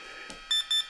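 Two short, bright electronic beeps in quick succession from a brushless RC car speed controller confirming forward, brake and reverse, each a steady high tone, preceded by a faint click.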